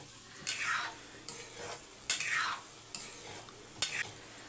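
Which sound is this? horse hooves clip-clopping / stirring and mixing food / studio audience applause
stirring and mixing food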